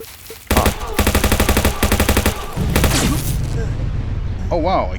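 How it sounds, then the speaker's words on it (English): Rapid machine gun bursts from the video game Scrolling Battles Pro rattle in fast, evenly spaced volleys, loud and close, with brief pauses between strings of shots and a short electronic warble near the end. "Machine gun."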